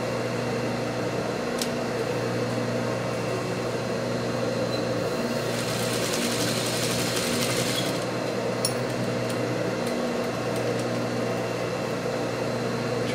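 A sewing machine runs a steady stitching drone while sewing a narrow seam on a scrappy quilt-as-you-go potholder, continuous and close with a constant hum, no talking.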